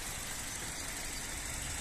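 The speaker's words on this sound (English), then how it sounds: "engine sound nice and smooth" A 2008 Honda Jazz 1.2 i-VTEC petrol hatchback idles with a steady, quiet engine hum, smooth and even with no talking.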